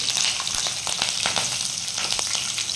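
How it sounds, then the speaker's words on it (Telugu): Green chillies and curry leaves fry in hot oil for a stuffed brinjal fry, giving a loud, steady sizzle dotted with sharp crackles and pops throughout, with no voices. "నేను ఆయిల్ పెట్టుకున్నాను మరో పక్కనే పచ్చిమిర్చి కరివేపాకు వేసుకోవాలి కొద్దిగా వేయించుకోవాలండి"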